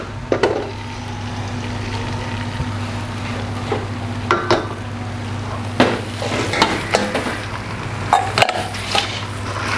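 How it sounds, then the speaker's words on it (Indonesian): Chili sauce and tomato sauce being stirred into a large frying pan for a big batch of food, loud sizzling with repeated metal spatula scrapes and clanks over a steady low burner hum. "sekarang kita masukin saus tomatnya teman-teman"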